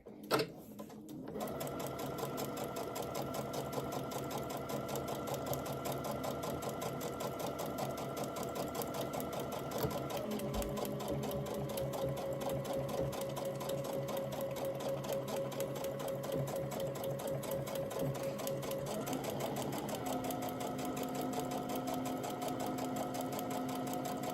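A sewing machine stitches a paper-pieced bird quilt block in a long, steady run of rapid even needle strokes, close and constant, its motor pitch shifting slightly partway through.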